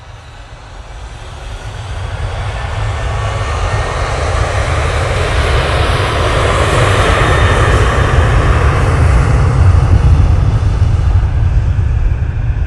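A TUI airliner departing Manchester Airport gives a loud, broad jet roar that builds steadily over several seconds and stays strong and close, with deep rumble underneath and no voices.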